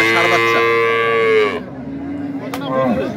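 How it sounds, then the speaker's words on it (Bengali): A cow at a rural cattle market moos in a long, loud, close call, followed after a short pause by another rising moo, with faint market noise beneath. "আমরা দেখছিলাম এখানে একটি চমৎকার বাছুর গরু এবং গাভী গরু।"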